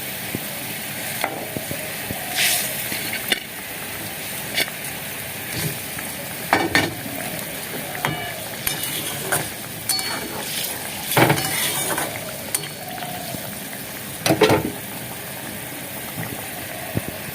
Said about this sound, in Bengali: ঝোলটা তো মাছটা দিয়ে ফুটছে